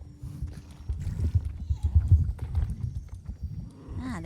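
Horse hooves clopping in a video game, a steady low trotting patter running throughout at moderate loudness with faint game ambience.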